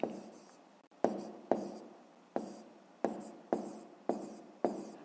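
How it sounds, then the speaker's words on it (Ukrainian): Numbers written by hand with a pen on paper: about eight short, crisp scratching strokes spaced roughly half a second apart, close and alone. "Пишемо тоді тут 312."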